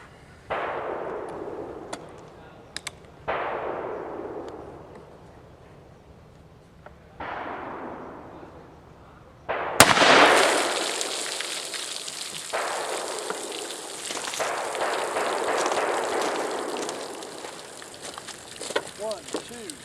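Ruger Old Army black powder revolver with a 7.5-inch barrel fires 225-grain conical bullets over Goex powder: several loud, sharp outdoor reports, each trailing off in a long decaying echo, with a brief noisy stretch after the fourth shot.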